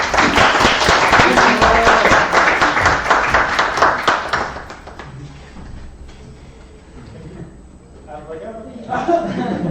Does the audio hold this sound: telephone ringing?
no